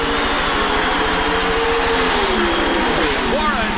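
Drag racing cars launch off the starting line at the 1987 NHRA Winston Finals, a loud, sustained engine roar with rising pitched sweeps, and a commentator speaks over it.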